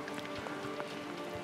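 Steady rain patters over a broad hiss in the game A Way Out, with scattered soft drops and light footsteps or movement tapping through the continuous wash.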